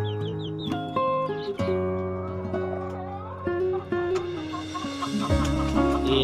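Hens and a Bangkok rooster cluck and call in a loose, overlapping chorus close at hand, with sharp repeated clucks over a steady backdrop of poultry noise and no people talking.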